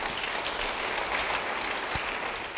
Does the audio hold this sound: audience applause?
yes